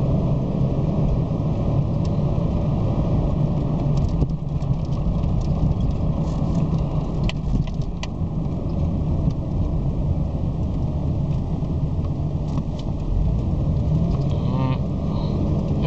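A car accelerating back up to around 30 to 35 mph between stops while bedding in new brakes, with steady road and engine rumble alongside some faint mechanical clicks and creaks, close and continuous throughout.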